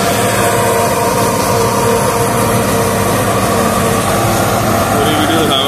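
A New Holland 3630 Special Edition tractor engine runs steadily nearby, a loud, continuous diesel drone with no break across the few seconds.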